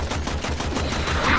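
Rapid automatic gunfire in the video game Warframe, a fast continuous rattle of shots at a steady rhythm throughout the short burst.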